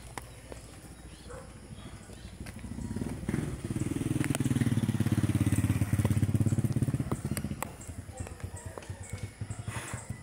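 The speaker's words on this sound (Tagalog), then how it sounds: "Motor sa taas." A motorcycle engine climbing uphill rises from a distance and grows louder as it passes, mixed with footsteps and rustling, then fades again.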